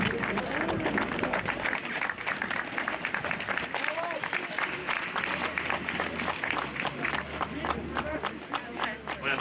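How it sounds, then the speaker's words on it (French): Crowd applause and cheering at a podium ceremony of the MV Cup at the Trophée Andros ice racing event in Isola 2000, steady and loud throughout with a commentator talking over it. "Et le voilà, on applaudit Vivien Gonnet."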